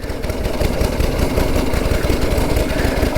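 A 109-year-old TT racing motorcycle engine runs loud and close, with a rough, steady, throbbing chug throughout.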